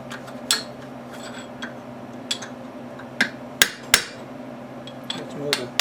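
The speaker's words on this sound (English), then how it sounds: "I got a different chisel. It's a little wider on the bottom." Sharp metallic hammer strikes on a chisel while knocking out an axle bearing on an old Ford F100 in a garage, a handful of irregular hits, several ringing loudly and close against a low steady hum.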